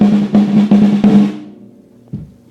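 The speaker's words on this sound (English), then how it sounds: "The first drum is called snare drum." Snare drum struck in a burst of loud, close hits with a ringing pitched tone, then a decaying ring and one softer tap near the end.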